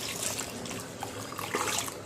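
Soaked ragi flour mixture poured into a pot for ragi sangati, a continuous wet, trickling splash heard up close for about two seconds with no talking.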